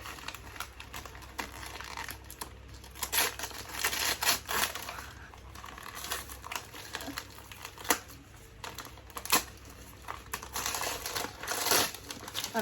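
Wrapping paper and gift bags crinkle and rustle close up as presents are wrapped, bursts of crisp crackling and crumpling that come and go over a steady room hiss, with no talking.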